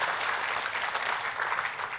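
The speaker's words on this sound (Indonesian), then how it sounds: "Tepuk tangannya yang paling meriah buat Tuhan kita." Dense, lively applause from a church congregation praising God during a sermon fills the whole stretch, loud and continuous with no voices over it.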